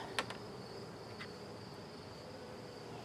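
Honeybees hum faintly and steadily during an inspection of a nuc hive, with a couple of closer buzzes flitting past the microphone.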